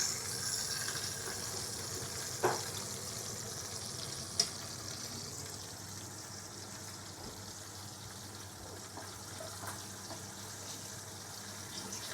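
Food browning in a pot with beans, a faint steady sizzle and crackle close by, with a couple of sharp clinks.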